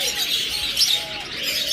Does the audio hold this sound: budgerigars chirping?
yes